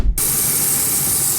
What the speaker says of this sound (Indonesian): Oke, sedikit lagi kita semprot lagi ya.